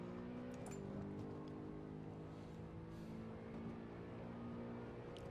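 A BMW M3 engine held on throttle in Assetto Corsa on the Nordschleife, a steady, loud, droning hum with strong low harmonics running unbroken throughout.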